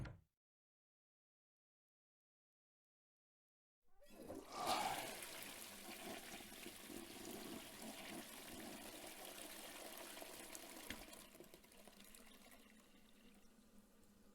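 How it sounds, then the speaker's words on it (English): A toilet flushes inside the Chaos;Child video game, starting after several seconds of silence with a sudden loud rushing gush of water that holds steady, then eases slightly toward the end. "Is that the sound of the toilet flushing?"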